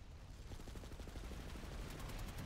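Rapid bursts of gunfire at a Reaver aircraft, played as a Heavy soldier in the online shooter Planetside 2, form a fast, steady rattle of repeated shots that stays loud and continuous throughout, with no talking.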